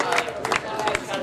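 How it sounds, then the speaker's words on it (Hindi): Applause from an audience welcoming a poet at a mushaira in Jalgaon, a dense, steady clatter of many hands clapping close by, with crowd murmur mixed in throughout. "जोरदार तालियों से शायर का यहाँ इस्तकबाल हो गया।"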